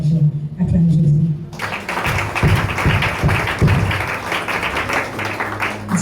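A church congregation breaks into applause and cheers for Jesus, a dense wash of clapping that swells after a brief opening and continues steadily, with voices speaking and calling out over it.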